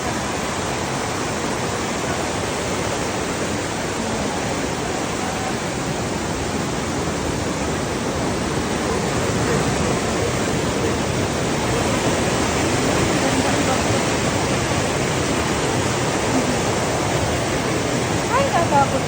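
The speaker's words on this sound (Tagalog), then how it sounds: "Yun na guys yung falls." A waterfall in Dingalan, Aurora gives a constant broadband roar of rushing, splashing water, loud and steady throughout with a slight rise toward the end. No clear speech is heard.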